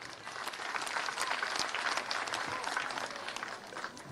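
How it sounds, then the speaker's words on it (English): Audience hand clapping fills the room, a steady wash of many hands applauding at moderate distance, fairly quiet overall and continuous throughout. "can we give a thunderous hand clap?"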